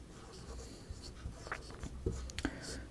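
A pen or marker scratches across a board during a lesson on triangle sides, a soft, continuous scraping heard close over faint room noise.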